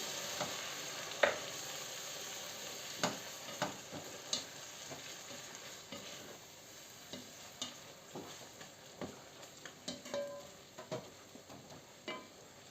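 Soft bubbling and gentle sizzling from garlic scapes stewing in a sour cream sauce in a covered pan on the stove, with scattered small pops and clicks, quiet and close.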